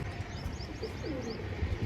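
A pigeon perched up on a rooftop gives soft, low coos with a few higher chirps from other birds, fairly faint against steady outdoor background noise, with no voices.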